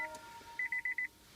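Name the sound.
Nissan Leaf dashboard beeping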